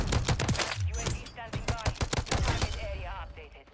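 Gunfire from Modern Warfare 3: rapid bursts of sharp gunshots in quick clusters, close and loud, with a voice faintly present between shots.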